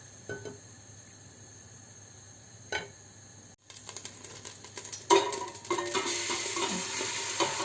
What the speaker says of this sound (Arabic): ومن بعد غنشحروا فيها البصله ولي زيبينا